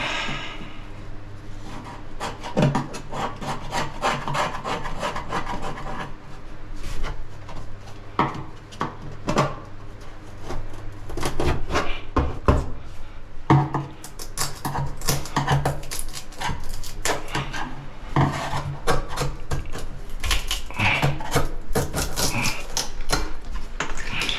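A sharp little chisel working on the shower pan of a sailing boat, producing dense, irregular tapping and scraping knocks against a steady background hum, close and continuous.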